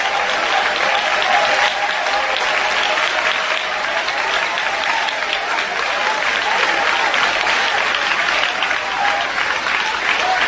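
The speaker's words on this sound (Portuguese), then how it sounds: "batam palmas e glorifiquem a Jesus" A church congregation claps hands together in steady, dense applause that stays loud and even throughout, like a full crowd clapping at close range.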